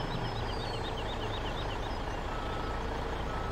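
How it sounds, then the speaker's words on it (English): In Farming Simulator 17, a logging truck backs up with a continuous rapid series of reversing beeps over its rumbling engine, steady and moderately loud with no talk. "like the sound of that truck."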